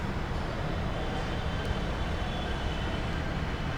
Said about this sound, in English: it's super loud with this train and freeway right behind me